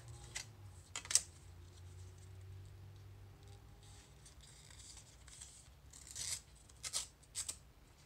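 Folded packing paper torn along a crease by hand, heard up close as a few short, dry ripping and crinkling bursts, with quiet rubbing between them and no talking.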